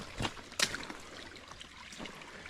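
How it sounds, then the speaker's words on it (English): Creek water trickling and burbling over rocks in a national forest, a gentle continuous flow with a couple of sharper splashy bursts near the start, heard alone without talk. "of the most beautiful creeks I've seen in the national forest"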